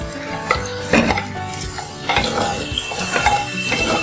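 Onions browning in a pan for chicken matka biryani, a close sizzle under repeated scraping and clinking stirring strokes with a spoon against the metal.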